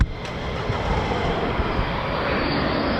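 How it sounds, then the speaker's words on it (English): Military fighter jet, F-15 or F-35, inbound at RAF Lakenheath, a steady broad roar of jet engine noise that holds loud and constant throughout with no talk over it. "So we've got aircraft inbound now,"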